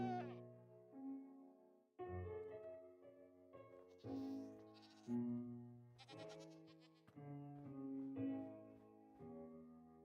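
Rams bleat repeatedly, a series of drawn-out, wavering calls from several animals, fairly close and loud, overlapping one another with brief gaps between cries.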